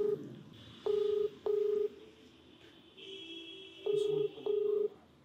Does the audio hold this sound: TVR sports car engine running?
no